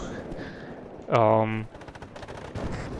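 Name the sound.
light rifle gunfire from the video game WARNO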